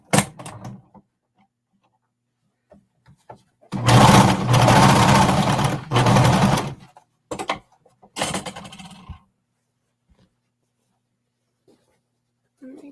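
A sewing machine topstitches around a jacket in short bursts, one long run of rapid stitching then briefer spurts, close and fairly loud amid quiet handling noises.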